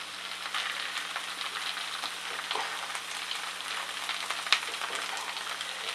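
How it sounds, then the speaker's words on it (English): Tomato puree sizzles and fries in a hot pan while tikka masala cooks, a steady close crackling hiss with a few sharper pops, no voices. "And then add your tomato puree."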